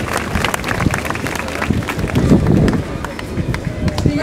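Outdoor crowd clapping at the inauguration of Place Slimane Azem in Paris, dense and continuous applause with voices mixed in and a swell near the middle.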